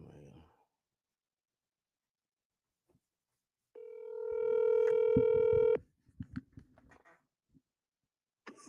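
Telephone placing an outgoing call, a steady tone lasting about two seconds followed by a few clicks, with a person talking briefly before and after.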